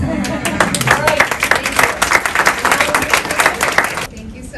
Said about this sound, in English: One more round of applause for Chairwoman Jessica Rosenworcel.